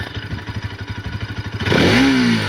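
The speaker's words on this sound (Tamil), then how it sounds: "இதுதான் வண்டி சவுண்டு." Bajaj Pulsar NS200 BS6 motorcycle engine, heard nearby, first idling with a steady rapid pulse, then revved hard into a loud rising roar for the rest of the clip.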